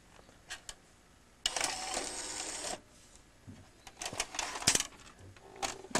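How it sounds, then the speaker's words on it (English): A Toshiba DX-3C VCR tape mechanism runs with whirring motor bursts, clicks and mechanical clunks, close and fairly quiet, and a longer grinding whir comes in the middle. "you could see the tape mechanism is fully functional"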